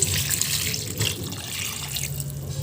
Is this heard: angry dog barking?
no